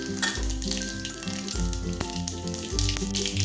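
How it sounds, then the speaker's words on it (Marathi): Mustard seeds and cumin crackle and sizzle in very hot oil for a drumstick dal tempering, a close, continuous frying hiss with small pops over low background music, no speech. "आपलं तेल छान असं कडकडीत गरम झालेलं आहे आपल्याला यामध्ये मोहरी आणि जिरं घालून घ्यायचं आहे"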